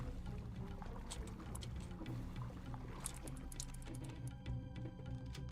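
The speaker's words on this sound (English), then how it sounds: "The valve triggers a rush of water through the pipes" Water in a video game rushing through pipes after a valve opens, a continuous gurgling, splashing flow with scattered light clicks and drips on top, moderately quiet and without speech.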